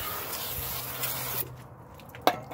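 Steady hiss of spray from an aerosol can as a brake rotor on a 2000 Lincoln Navigator is sprayed down, close up, cutting off after about a second and a half, followed by a faint click.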